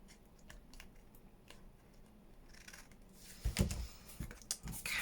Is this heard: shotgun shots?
no